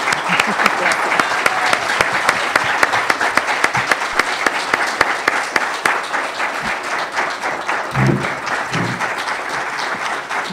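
A lecture audience breaks into a long, loud round of applause, dense clapping with a few sharp distinct claps standing out, tapering slightly toward the end with brief voices murmuring underneath.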